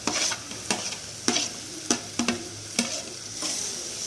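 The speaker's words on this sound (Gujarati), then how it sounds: "અને બધું જ શાક બરાબર હલાવીશું।" Potatoes and green beans being stirred in a frying pan, with a series of distinct spoon scrapes and clatters over a steady background sizzle, close and moderately loud, with no voices.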